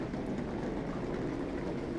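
Steady rain falling in Segovia, a soft continuous hiss and patter that holds even and moderately faint with no voices.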